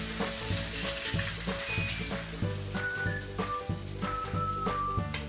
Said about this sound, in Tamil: சூப்பரான ஃப்ளேவரில் இருக்க வாழை இலையில் பொரிக்கிற மீன்